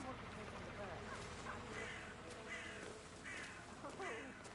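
Crows caw repeatedly in a game scene, harsh calls at a steady pace under a continuous background murmur, with a voice talking faintly.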